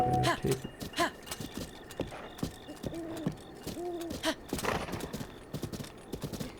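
A horse gallops in Zelda: Breath of the Wild, its hooves beating a steady rhythm under game music and ambient tones while a voice talks.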